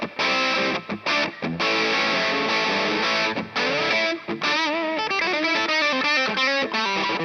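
Electric guitar played through a Sonicake multi-effects pedal set to low-to-medium gain with a touch of reverb, sounding loud and continuous with distorted chords and sustained notes ringing out, a few brief pauses between phrases and no talking.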